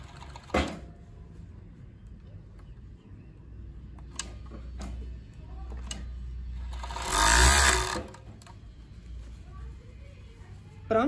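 Sewing machine stitching fabric for a traditional panty, a short burst of needle running loud between quieter stretches with brief clicks and handling noise, no talk.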